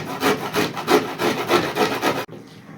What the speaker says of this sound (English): Now let me finish off grating.